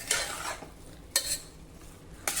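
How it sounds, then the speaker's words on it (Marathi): Cooked chickpeas and raw rice are stir-fried in spices, with three distinct bursts of a spoon scraping and tossing them in the pan, separated by quieter stretches of low sizzle. "दोन मिनिटांसाठी आता ह्या मसाल्यांमध्ये हे छोले आणि तांदूळ आपल्याला जरा परतून घ्यायचे"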